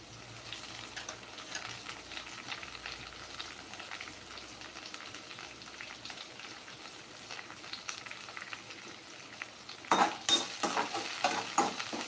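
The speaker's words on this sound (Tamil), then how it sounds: "கருவேப்பிலை போட்டுக்கிறேன்" Curry leaves fry in oil for a Tamil ivy gourd stir-fry with a constant sizzle, then a louder burst of crackling and stirring scrapes near the end.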